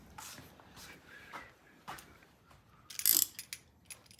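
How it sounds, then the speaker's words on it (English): A gear wrench ratchets on an isolastic mount bolt of a Norton motorcycle during a repair, giving a few soft, close clicking bursts with one louder sharp click near the end. "Get a gear wrench. Make life easy."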